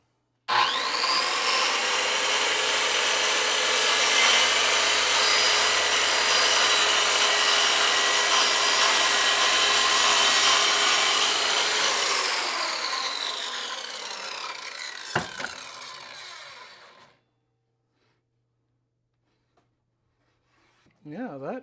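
A blade trims an Artika Sonolok panel with a sustained rasping, sawing scrape for about twelve seconds, then fades and stops, followed by silence and a faint knock.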